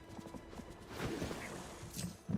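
Horse hooves in the video game Disney Dreamlight Valley, heard as soft, irregular clip-clop steps over a faint ambient game background, quiet and fairly close.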